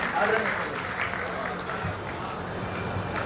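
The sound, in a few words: audience applause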